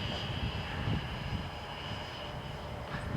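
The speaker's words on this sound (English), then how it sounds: "This is really the A6 Intruder by FreeWing." A FreeWing A6 Intruder RC model jet flies overhead with a steady, faint whooshing ducted-fan whine at half throttle, heard at a distance against outdoor background.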